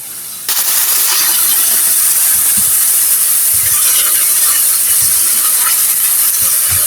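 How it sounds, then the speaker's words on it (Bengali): Water splashed into a hot pan of previously fried sesame seeds for an egg curry, bursting into a loud, steady steam hiss and sizzle that starts abruptly and holds for several seconds. "একটু পানি দিয়ে দিব যেহেতু তিলগুলি আমার আগে ভাজা ছিল"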